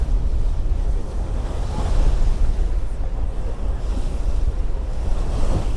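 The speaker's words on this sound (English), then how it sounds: "Look at the waves that he's caused." Choppy water from a passing boat's wake sloshes and splashes continuously beside a Manly ferry in Sydney Harbour, with strong wind buffeting the microphone; loud and close, with no clear individual breaks.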